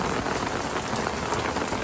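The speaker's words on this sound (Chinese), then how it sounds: "这场雨来得又急又猛，忽大忽小的让人措手不及。" Sudden heavy rain pours down in Venice, a dense, steady patter drumming loudly on surfaces throughout with no voices.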